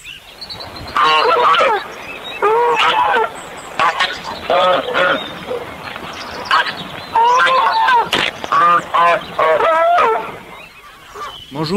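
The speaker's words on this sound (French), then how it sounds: "Ce sont les oies avec les oiseaux." Farm geese honk in repeated loud bursts of nasal calls, close by and overlapping, with brief pauses between groups.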